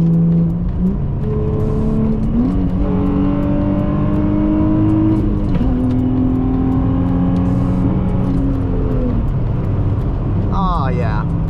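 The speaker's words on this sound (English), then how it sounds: "This is cruising in a 350Z through town." Nissan 350Z with a manual gearbox cruising through town, its engine droning steadily and close, pitch climbing and dropping through several gear changes, with a brief faint sound near the end.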